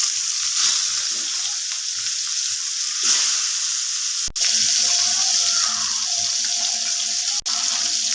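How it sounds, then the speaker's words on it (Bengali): Rui fish slices fry in hot oil in a pan, a steady close sizzle with bright crackling and two sharp clicks partway through, no voices. "তেলটা গরম হয়ে আসলে আমি মাছগুলো একে একে ছেড়ে দিব।"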